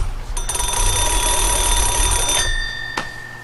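A Swedish M-37 field phone sends its call signal to an E8, a loud continuous electric bell ring lasting about two seconds, followed by a fainter ringing tail and a brief click.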